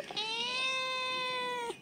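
A cat gives one long, clear, drawn-out meow up close, sustained for over a second and a half against quiet surroundings.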